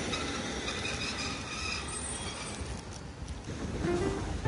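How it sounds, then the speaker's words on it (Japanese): A streetcar runs along a tram street, a steady rolling rumble with a brief wheel squeal near the end, heard from the roadside amid street ambience. "この電車が走っております。"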